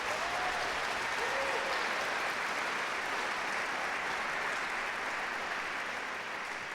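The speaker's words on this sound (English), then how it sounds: "let's give them a round of applause." A live-event crowd in Grand Rapids applauds the evening's entertainers with a loud, sustained, even roar of clapping that holds steady for nearly seven seconds and eases slightly at the end.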